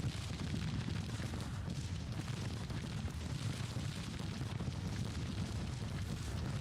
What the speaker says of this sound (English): Meanwhile, my own artillery on the flank is firing.